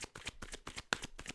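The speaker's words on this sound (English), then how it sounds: "I'm gonna try to shuffle as best as I can to not move the camera." A deck of tarot cards is shuffled by hand in quick, crisp riffling bursts, about seven rapid flutters in a row, close and soft with no talking.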